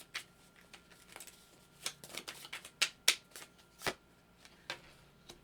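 Tarot cards are shuffled by hand in quick soft riffles and taps, a series of brief crisp bursts scattered irregularly over a quiet background, close and fairly faint, with no talking.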